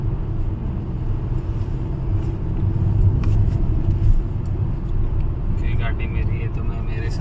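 A car cruising steadily on a road at moderate speed, a constant low engine and tyre rumble that holds at an even level throughout, with no talk over it.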